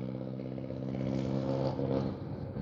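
A new motorcycle engine runs briefly during an oil flush, a close, steady idling drone with a slight rise in the middle and no talking.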